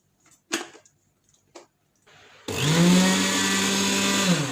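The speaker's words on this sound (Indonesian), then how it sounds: "aku senang banget dapat blender Philips ini" A Philips blender roars to life after a few faint clicks and handling noises, then runs at a loud, steady whir to the end.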